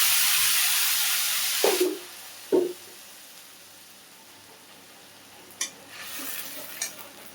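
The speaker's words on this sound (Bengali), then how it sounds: "এখন লঙ্কা, আদা, রসুন, পেঁয়াজ পেস্ট আমি দিয়ে দিলাম।" Chili, ginger, garlic and onion paste hits hot oil with cumin seeds in a pan, a loud sizzle that drops away, then a few sharp scraping stirs and a fainter renewed sizzle, heard close and without talking.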